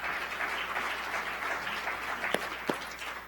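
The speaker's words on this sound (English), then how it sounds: "Give yourselves a round of applause." Conference audience applauding in a hall, a dense, moderately loud wash of clapping that carries on steadily, with a couple of sharper individual claps near the end.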